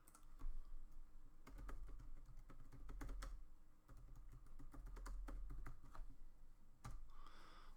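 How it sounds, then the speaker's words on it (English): Steady typing on a computer keyboard entering a web address, quick keystrokes in rapid runs with short breaks, close but soft over a low background hum, no voices. "Let's type this in."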